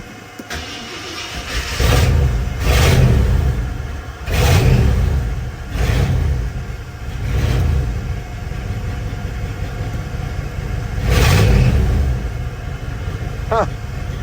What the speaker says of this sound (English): See if she'll crank this morning.